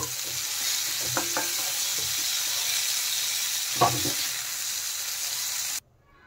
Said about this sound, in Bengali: ভালো করে আমি ভেজে নিয়েছি ফুলকপিগুলো